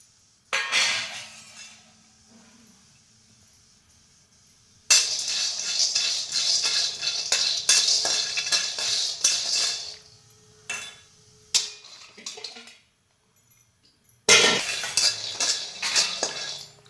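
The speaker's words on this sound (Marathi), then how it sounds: "शेंगदाणे भाजून घेतात" Raw peanuts dry-roasting in a pan, heard as bursts of dry rattling and metallic scraping as they are stirred, separated by near-silent pauses, close and fairly loud.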